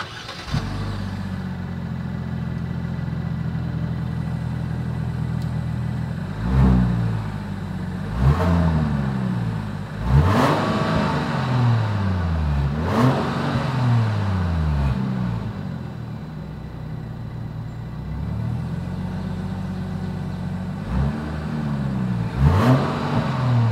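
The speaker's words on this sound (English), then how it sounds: "here is that exhaust clip" Exhaust of a 2022 Genesis GV70 settling into a steady, low idle, broken by about six quick throttle blips that rise and fall back, heard close and alone.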